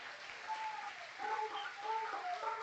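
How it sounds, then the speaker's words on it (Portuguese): Church congregation applauding during a worship service, a steady, moderately distant wash of clapping with faint tonal sounds drifting above it. "Vamos aplaudir o nome do Senhor."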